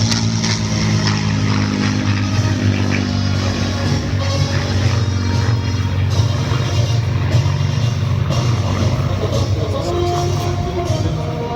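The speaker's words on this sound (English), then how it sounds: "Peter Teichmann, who is flying this aircraft today, is an authorised display pilot with some 7," A propeller aircraft at a historic display flight, heard as a loud, continuous engine drone with a steady low hum that holds throughout.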